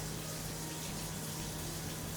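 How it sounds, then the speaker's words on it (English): Water runs steadily from a kitchen faucet as a broad, even rushing hiss that holds without pause for a couple of seconds. "we're then going to take your towel and shut the faucet off"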